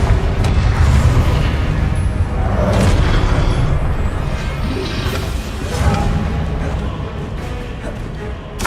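Confringo fire spells bursting again and again in Hogwarts Legacy, a dense run of loud, rumbling booms and crackling blasts layered with game ambience, with no clear gaps between impacts.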